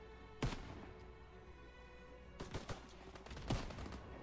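Gunfire in Call of Duty: WWII: a single sharp shot, then a cluster of quick shots, then another crack, fairly distant and faint over a low background hum.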